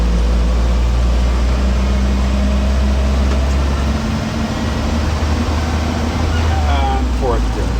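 A 1959 Land Rover Series II 109-inch pickup drives in third gear, its engine giving a steady, loud drone with road and cabin noise throughout.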